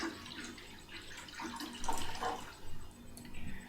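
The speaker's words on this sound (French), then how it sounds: "puis donc tu peux verser l'eau dedans" Water is poured into a fairly large bowl, producing a soft, close, steady splashing and trickling stream with a few louder surges.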